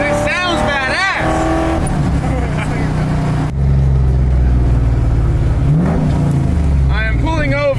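An LS-swapped Camaro muscle car with a manual gearbox revs while driving. Its loud, low engine drone rises and falls in pitch as the throttle changes, and someone talks over it at the start and end.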